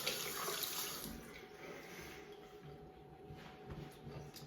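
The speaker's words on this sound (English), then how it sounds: "Now, just so that I don't have any excess product on my fingers, I'll wash my hands off." Hands are washed under a running tap, giving a steady, fairly quiet stream of water with splashing variations and no speech.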